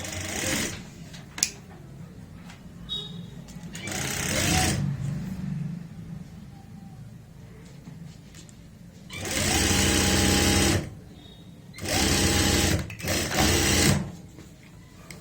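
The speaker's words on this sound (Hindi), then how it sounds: "यहाँ पे इस तरीके से रखेंगे, आधा इंच का मार्जिन लेते हुए ऐसे सिलाई लगाएंगे।" A sewing machine stitches the front crotch seam of elastic-waist palazzo pants with a half-inch margin, running in several loud bursts of rapid, even whirring, with quieter pauses and handling noise between the runs.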